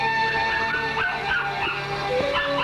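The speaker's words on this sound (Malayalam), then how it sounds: "കുരയ്ക്കുന്ന കേട്ടില്ലേ?" A dog barks and yips with short, high yelps and whimpers during a tense night scene from a Malayalam action thriller film, heard close over a steady tonal background.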